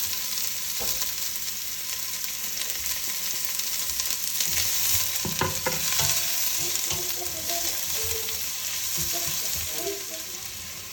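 Onion fries in oil sprinkled with salt, giving a continuous dense sizzle, with a few clattering stirs of a utensil in the pan near the middle.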